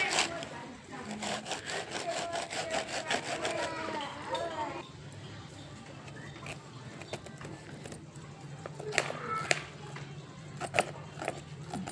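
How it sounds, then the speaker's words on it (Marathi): A knife slices fresh corn kernels off the cob in quick, rhythmic scraping strokes, close and fairly soft, while someone talks over it. "आता काही आपण ना सुरीने कापून घेऊ."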